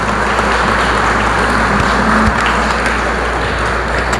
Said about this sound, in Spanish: Fuerte el aplauso al Espíritu Santo.